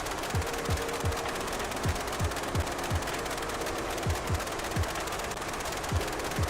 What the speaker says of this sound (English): It's so loud, this aircraft.